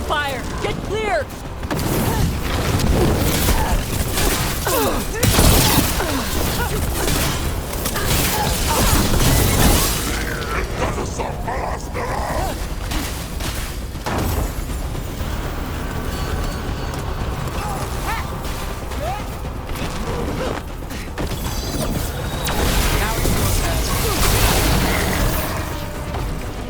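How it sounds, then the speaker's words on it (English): Cannon fire in a video game: heavy booming blasts and crashing impacts recur amid a dense, loud battle soundscape, with characters talking over the noise. "Cannon fire! Get clear!"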